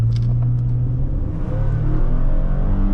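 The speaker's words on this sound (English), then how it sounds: "I like the sound. How it revs out." A 2011 Lexus RX350 engine revs hard under acceleration, a loud, steady rumble with rising harmonics that climbs and holds for the whole stretch, close and continuous.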